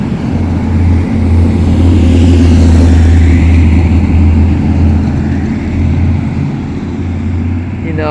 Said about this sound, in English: here comes a little convoy of classic cars